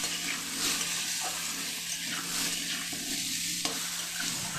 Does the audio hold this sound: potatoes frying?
yes